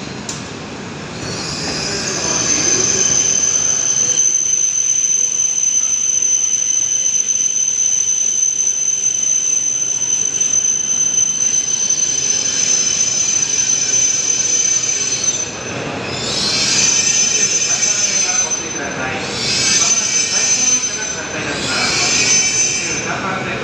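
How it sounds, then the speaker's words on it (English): Empty Shinkansen bullet train pulling out of a platform at a large Japan station, with loud sustained high-pitched wheel squeal and rumbling carriages close by for most of the clip, swelling again in later bursts. "Empty train departing platform 23."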